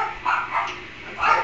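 Several dogs bark and yip loudly indoors in a home kitchen, three separate bursts of barking with short gaps, heard alone without talk.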